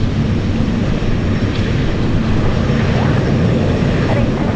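A Douglas DC-3 propeller airliner taking off gives a loud, continuous engine roar heard at an airport, broad and steady throughout with no break.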